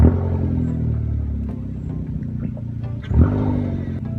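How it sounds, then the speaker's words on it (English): A Vauxhall VXR with a loud modified exhaust idles with a deep, throaty rumble, then gives one short blip of the throttle that swells briefly before settling back to a steady idle, close and fairly loud. "I'll give you a little rev."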